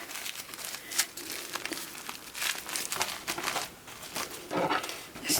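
Tissue paper for a party pom pom being folded and creased by hand, heard as close, continuous crinkling and rustling bursts with no talk.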